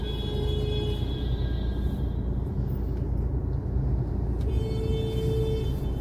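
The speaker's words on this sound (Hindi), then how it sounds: "धीरे धीरे करके गाड़ी निकल रही है," Cars slowly pulling out one by one from a double line of waiting vehicles at an Uber pickup area in Mumbai, heard as a steady low engine rumble and traffic drone with faint tonal whines and no talking.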